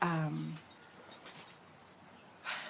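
A dog whimpers briefly at the start, a short high whining cry, then the room falls mostly quiet apart from a few faint soft noises and a rustle near the end.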